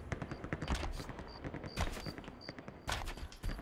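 Rapid automatic gunfire in Halo Infinite multiplayer, dense bursts of shots repeating through the moment with brief pauses, loud and close.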